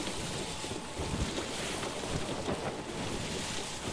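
A sloop sailing ship moving across open water in a video game, heard as a steady, loud rush of wind and waves with no voices.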